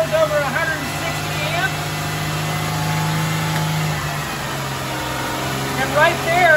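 A vehicle engine held at raised RPM during an alternator charging system output test: a steady, loud, droning hum that continues throughout, with people talking over it.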